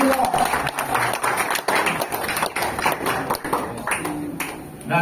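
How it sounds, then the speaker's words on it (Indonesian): A crowd claps to welcome a guest at a volunteer campaign house opening, a dense patter of hands under someone speaking over a microphone. "Selamat datang Mbak Sarah, tepuk tangan untuk beliau."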